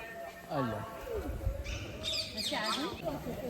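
A parrot calls out with shrill, squawking cries overhead at Kevadia safari park zoo while a person talks nearby, the calls rising above the outdoor background.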